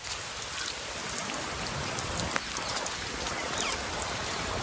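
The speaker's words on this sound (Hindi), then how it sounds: "ऊपर से बारिश भी स्टार्ट हो गई है भाई साहब" Rain falls along the Sabarmati riverfront in Ahmedabad, a soft, even hiss of drops on surfaces with faint distant background noise and a single brief tap partway through.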